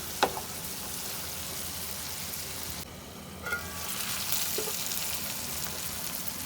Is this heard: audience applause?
no